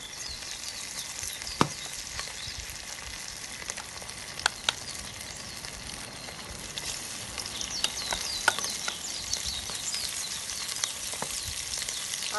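Pieces of chicken fry in hot ghee in a pan, a steady bright sizzle with scattered pops and spits, close and continuous with no one speaking.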